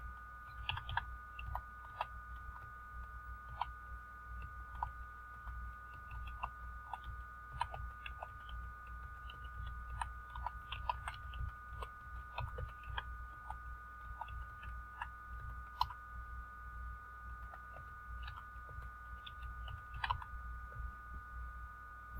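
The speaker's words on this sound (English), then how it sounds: "I'm going to type it out for you." Faint, close keystrokes on a computer keyboard patter irregularly over a low steady hum, with no voices.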